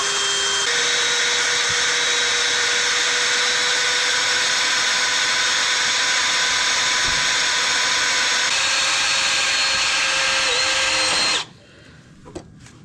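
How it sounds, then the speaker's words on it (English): A power drill drills into a car, a steady high whine that runs continuously and close for about eleven seconds. It shifts pitch slightly once or twice, then stops abruptly, leaving near silence. "Drill my car."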